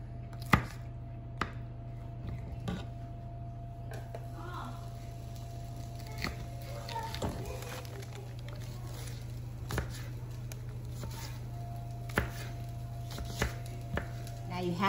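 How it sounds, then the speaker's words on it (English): A sharp knife chops small peppers on a board, scattered single taps spaced a second or two apart over a steady low hum, fairly faint and close. "Now I'm going to cut some pretty little peppers to put in."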